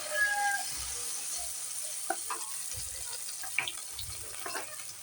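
Chicken fries in a pan for a home-cooked lunch, a soft steady sizzle with occasional pops and clinks of stirring, moderately close and fairly quiet.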